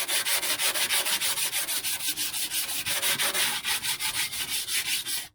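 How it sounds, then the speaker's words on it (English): Rapid back-and-forth scraping of coarse sandpaper lightly scuffing rusty metal, a steady rhythm of about four strokes per second, close and loud, no voices. "you can use some coarse paper like that and just lightly scuff it like this"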